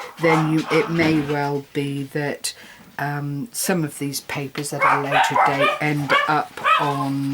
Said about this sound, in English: excuse the dogs, they're going loopy